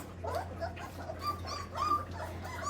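Old English Sheepdog puppies whimper and yip softly while finishing a snack, with faint high whines rising over a low steady hum, close and fairly quiet.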